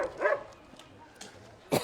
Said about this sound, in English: Sadie, stop barking